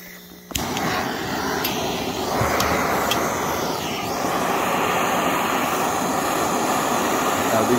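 A propane torch flame heats a copper pipe fitting for soldering, igniting with a sudden pop and then roaring as a steady, loud, close hiss that swells slightly and holds.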